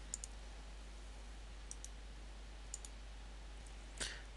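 A computer mouse clicking in quick double clicks, faint sharp pairs of clicks repeated a few times in a quiet room, with a slightly louder click near the end.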